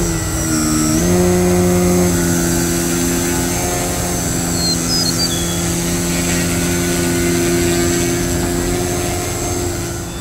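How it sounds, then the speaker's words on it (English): An Addiction XL RC model airplane flies overhead, its engine a loud, steady droning whine that shifts pitch early on and then holds fairly constant throughout. "This plane really is remarkably smooth."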